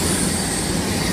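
A Virgin train arrives at the Stafford station platform, its wheels squealing and rumbling in a loud, continuous roar of rail noise close by.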